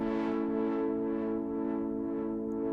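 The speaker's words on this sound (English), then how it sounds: "Just got a chord sound in Diva up" A sustained synth chord from the Diva plugin, built on two detuned dual-VCO oscillators, rings out loud and alone with a slow, rhythmic filter swell pulsing through the upper tones.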